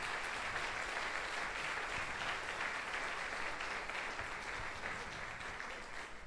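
A church congregation applauds during a celebration service, producing steady, dense clapping that fills the whole stretch at an even level without a break.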